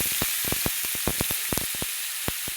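Ridge gourd pieces fry in hot oil, giving a steady, close sizzling hiss dotted with a quick run of sharp crackles and pops throughout.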